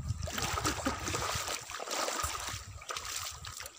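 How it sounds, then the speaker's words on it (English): The Belsri stream, flowing down from the Arunachal Hills through jungle, gives off a continuous rushing gurgle of moving water with small splashes and trickles, moderately near and steady throughout. "Belsri streams, and this water flow from the Arunachal Hills"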